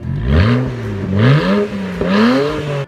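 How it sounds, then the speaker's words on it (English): A BMW 335i with an aftermarket exhaust revs repeatedly, the engine note rising and falling in three or four throaty pulls, loud and close. "It makes a pretty good noise with a good exhaust on it"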